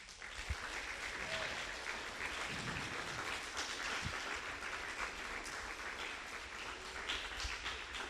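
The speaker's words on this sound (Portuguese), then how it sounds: "Você pode aplaudir a Jesus Cristo?" A church congregation breaks into sustained applause, a dense, steady wash of clapping that holds at an even level for the whole stretch, with a few sharper claps standing out near the front.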